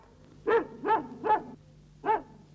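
A dog barks four times, three in quick succession and then one more after a short pause, fairly close and clear.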